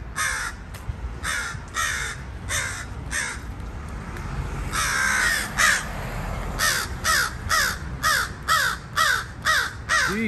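Crows caw loudly and repeatedly in a residential neighborhood of St. Augustine, harsh calls coming in quick bursts and clusters, several birds overlapping, near and insistent, with no talk.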